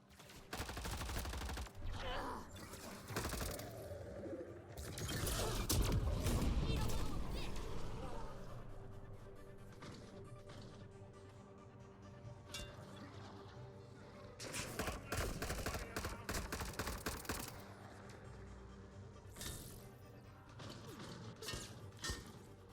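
Gunfire and crashing impacts from a sci-fi shooter game, Mass Effect: Andromeda, come in dense bursts with explosions under a music bed, loud and continuous, while a player talks over the action.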